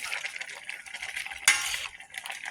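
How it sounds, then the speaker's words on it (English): Vegetables stirred and tossed in a pan while a chicken enchilada dinner is cooked, a soft continuous scraping and clinking with one sharper utensil knock midway, close and moderately loud. "Veggies are in. Let's get those stirred around and mixed up."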